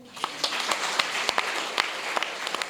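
An audience at a public talk on food production breaks into applause, a moderately loud, dense patter of hand claps with sharp individual claps standing out.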